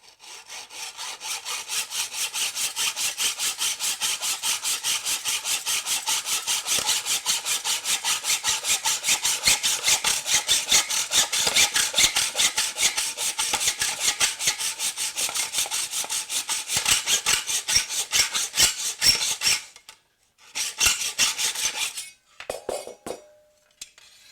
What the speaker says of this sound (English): I'm using a mitre block and a hacksaw for the one nosing